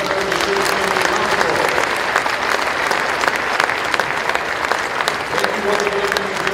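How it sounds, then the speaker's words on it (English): Loud, sustained applause from a high school basketball crowd in a gym fills the whole stretch, honoring veterans during a salute-to-service night, dense and even with a few scattered shouts mixed in. "One more round of applause for all of our veterans and citizens around the world."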